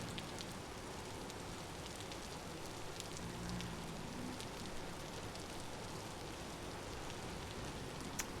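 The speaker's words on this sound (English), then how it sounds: "I hate running around when it's raining like this" Steady video-game rain patters continuously, a dense hiss with scattered drop clicks, fairly quiet and even throughout.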